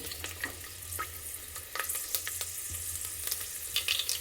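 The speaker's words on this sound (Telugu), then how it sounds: "ఒక నాలుగైదు ఎల్లిపాయలు అయితే వేసుకుంటున్నాను నేను ఈ మంచి బ్రౌన్ కలర్ వచ్చేంత వరకు అయితే మగ్గించుకోవాలి" Four or five garlic cloves fry in a pan for a ridge gourd dal, giving a soft, steady sizzle with light crackling pops and occasional stirring scrapes, close but fairly quiet and without any talking.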